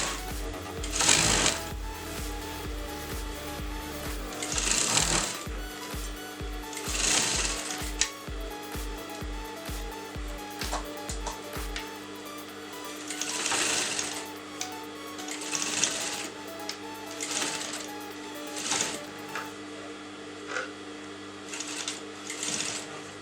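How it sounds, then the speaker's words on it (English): A sewing machine stitches lace onto the neck side of a designer blouse: a fast, steady run of needle strokes for about twelve seconds, then it stops, leaving scattered handling clicks and rustles nearby. "you're going to sew on the neck side of the lace like this"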